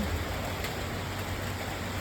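Steady rain falls outdoors as a continuous broadband hiss, even and unbroken from start to finish, with no voices.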